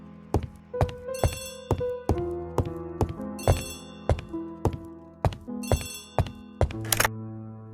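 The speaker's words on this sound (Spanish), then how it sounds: "Vale. Teléfono." An old-style telephone bell rings in repeated metallic bursts with clanging strikes and tonal ringing between them, loud and close, with no voices.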